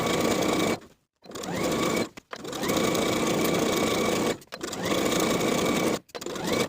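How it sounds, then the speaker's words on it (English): A sewing machine runs in long steady bursts as it stitches the bottom edges of a skirt together with a half-inch seam allowance, pausing briefly three times between runs, loud and close with no talking. "Then we'll sew the bottom edges of the skirt together from one side to the other with a 1/2 inch seam allowance"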